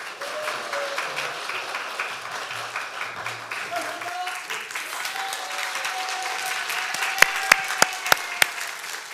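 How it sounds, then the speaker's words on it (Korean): Warm congregational applause during a Korean Sunday worship service, continuous clapping from a sizable gathering with faint voices underneath and a few sharp, close claps near the end. "박수!"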